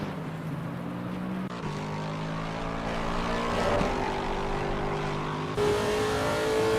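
A Lexus GT3 race car's V8 engine roars steadily and loudly at Silverstone during a GT3 championship round. The drone rises in pitch near the end as the car accelerates past.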